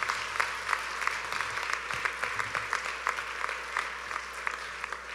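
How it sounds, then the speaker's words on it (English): Banquet guests at a Jerusalem prayer dinner give two honorees a steady, full round of applause, with crisp, even clapping that continues throughout at moderate distance. "Let's give them a huge round of applause."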